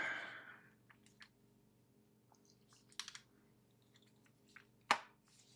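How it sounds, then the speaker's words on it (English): Thumbs tap the small keyboard of a GPD MicroPC 2 handheld PC, sparse soft clicks scattered over several seconds with one sharper click near the end, quiet and close in a still room. "thumb typing."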